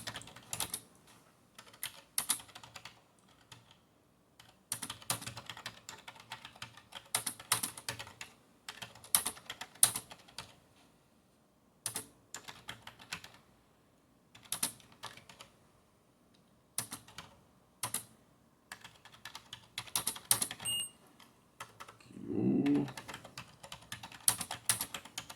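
Computer keyboard typing in bursts of quick keystrokes separated by pauses, close and clear, with a few heavier key presses, lasting about twenty-five seconds with no one talking.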